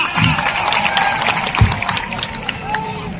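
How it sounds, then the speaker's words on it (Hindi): Crowd at a World Indigenous Peoples' Day gathering applauds, a steady broad clapping mixed with murmuring voices and a few louder thumps. "शाबाश मेरी बेटियों। शाबाश, तालियां,"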